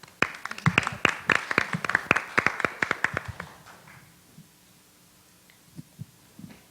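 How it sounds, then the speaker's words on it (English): Applause from an audience at a committee hearing, a few minutes of crisp, fairly sparse claps lasting about three seconds before fading into quiet room hum and faint shuffling. "Let's give her a round of applause."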